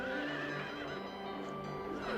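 Carousel horse from Silent Hill 3 neighing, a continuous loud whinny with a synthetic, layered tone and no talk, holding steady for the whole two seconds.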